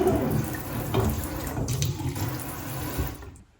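Water pours steadily from a pull-down faucet into a kitchen sink, a close continuous splashing hiss that cuts off at the end.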